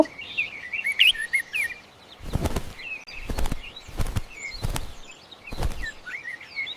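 A bulbul chirps in quick, bright bursts near the start and again between several loud, hard broadband thumps that punctuate the short outdoor recording.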